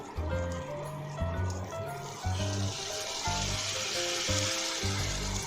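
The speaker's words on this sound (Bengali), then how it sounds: "এবার এটাকে একটু কষিয়ে নেব। যতক্ষণ না এর তেলটা ছেড়ে আসছে।" Chili powder, coriander powder and garam masala sautéing in oil give a soft, continuous sizzle, heard under steady tonal background music.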